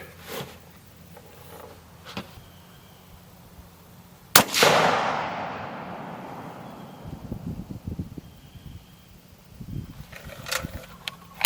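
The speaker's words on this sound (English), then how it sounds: "I'm going to shoot 3 rounds at the target" A single sharp rifle shot from a custom-built Howa 1500 in 6.5 Creedmoor at a target, loud and close, followed by a long rolling echo that fades over several seconds, with faint handling clicks before and after.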